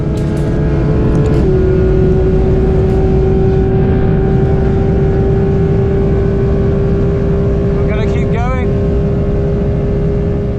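A Porsche GT3 RS at speed on the Nürburgring, its engine a steady loud drone with a sustained tone throughout, while a voice talks over it and a brief warbling sound rises near the end.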